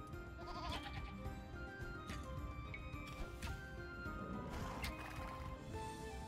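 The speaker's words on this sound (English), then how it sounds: "Only one goat managed to come home." A goat bleats in the strategy game Age of Empires, with several short nasal bleats set among busy in-game sound effects and chimes at a moderate level.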